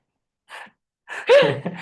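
A single sneeze from a woman, a short breathy intake followed by a loud, sharp burst that trails off, close to the microphone with no talk over it.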